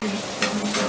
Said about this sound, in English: But you're frying the onions, huh?